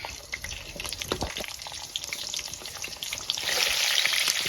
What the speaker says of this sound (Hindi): अभी यहाँ से ये जो आलू है इनको भी हम फ्राई कर लेंगे इसी तेल में